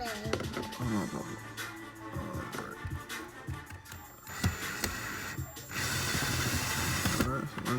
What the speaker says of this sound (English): you'll see 2 screws, Phillips screws under there that you gotta take out. So just gonna unscrew this.